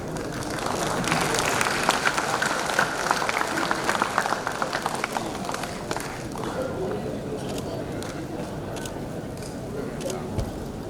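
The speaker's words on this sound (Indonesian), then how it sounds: "Sekali lagi kita berikan tepuk tangan untuk peluncuran buku biografi Sanggaran Hayarian" Audience applause at a book launch for a retired Indonesian army general's autobiography, a steady wash of clapping across the whole stretch with a slight swell early on, under faint background voices.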